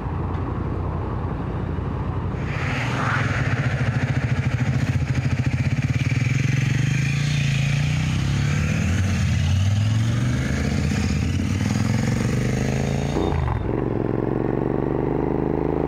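A Royal Enfield Interceptor 650 motorcycle on the move, its engine droning loud and close with rising and falling pitch as it accelerates and shifts, under steady wind rush with no talking.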